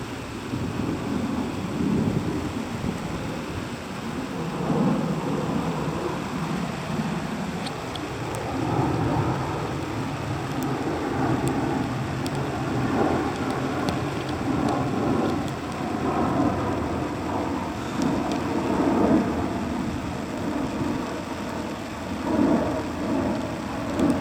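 Steady sleet and graupel hiss down during a November wind storm, with a dense patter on surfaces and low rumbling gusts throughout. No voices are heard.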